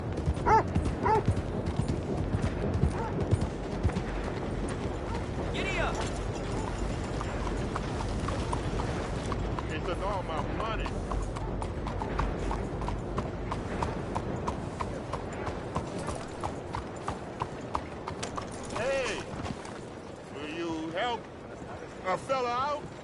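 Horse galloping in Red Dead Redemption 2, a steady run of clip-clop hoofbeats heard throughout under game sounds, with a voice speaking.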